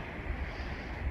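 Strong wind gusting outdoors near a large wildfire, a steady broadband roar buffeting the microphone with low rumbling thumps, no voices.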